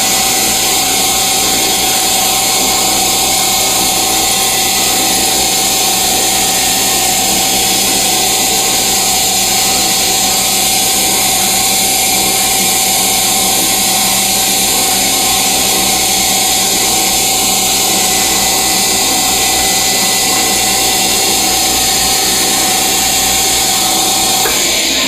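A metal lathe takes a light cut on a steel spindle body for a toolpost grinder, giving a loud, steady machine whir with a faint high whine that runs unbroken throughout.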